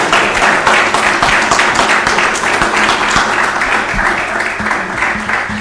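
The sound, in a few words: audience applause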